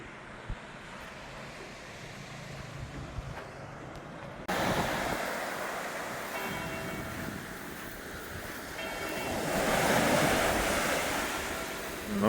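Surf washes onto a Mediterranean beach set between mountains in the Cinque Terre, a steady broadband rush of breaking waves that swells louder partway through, with wind buffeting the microphone.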